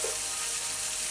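Tomato dropped into a hot pan with shrimp and vegetables, giving a brief, steady, even sizzle up close.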